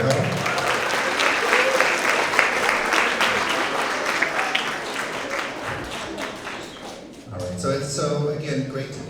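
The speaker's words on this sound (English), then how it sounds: "let's give Hannah another big round of applause for her help." Students and staff at a grades 6–8 school assembly break into loud, dense applause that carries on steadily for several seconds before dying away as someone begins talking.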